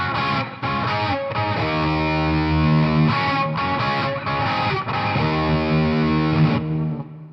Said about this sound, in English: Here's what it sounds like with the echo.